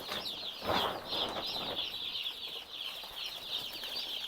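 Baby chicks in a brooder corner of a chicken house in winter, a steady chorus of high peeping that carries on throughout, with some soft fluttering and rustling close by.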